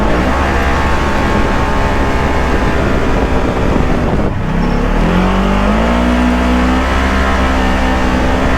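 A CVT-equipped vehicle's engine revs hard near 9,000 RPM, a loud, continuous droning whine that holds steady, dips briefly around midway, then climbs again with wind buffeting throughout and no talk.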